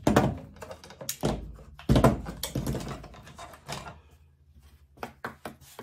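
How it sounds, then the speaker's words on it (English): Clips are pulled one by one off a formed, dried leather tool belt pouch, giving sharp close thunks and clicks in an uneven rhythm with brief pauses between them. "So all we're going to do now, take our clips off."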